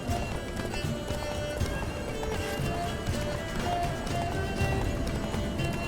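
Galloping horse hooves in The Witcher 3: Blood and Wine, a steady rapid clip-clop running continuously and fairly close, with a brief whinny and game ambience layered underneath.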